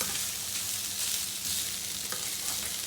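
Mince, onions and potatoes fry in a hot pan with a dense, continuous sizzle and hiss, overlaid by soft scraping as the mixture is stirred, close up and with no talking.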